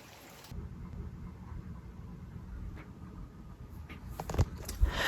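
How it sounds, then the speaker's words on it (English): Rain falls during a transmission swap on a Honda Del Sol, a soft, steady patter at low volume with a few heavier drips or thumps toward the end and no talk. "It's raining."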